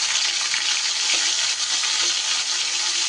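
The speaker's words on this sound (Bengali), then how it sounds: "এর মধ্যে দিয়ে দিচ্ছি আমি 1 চামচ আদা আর কাঁচা লঙ্কা বাটা" Ginger and green chili paste fry in hot oil over whole cloves and cinnamon, giving a loud, dense, continuous sizzle with faint stirring scrapes and no talking.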